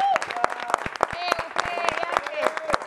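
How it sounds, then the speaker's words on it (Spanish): Clapping from a studio audience on a televised academy-style reality show, sharp individual claps heard up close under continuous talking and voices. "hay que brindarle un aplauso fuerte a la..."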